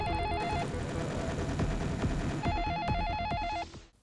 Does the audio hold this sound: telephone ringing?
yes